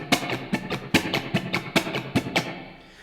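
Muted guitar strings strummed in a steady sixteenth-note down-up pattern for a funk version of a song, each percussive scratch sharp and close, with slightly stronger accents falling on the beats over about three seconds.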